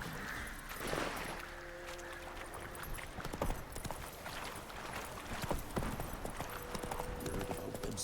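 Roach, the horse in The Witcher 3: Wild Hunt, gallops with steady rhythmic hoof clip-clops throughout, close and fairly loud over a busy game soundscape.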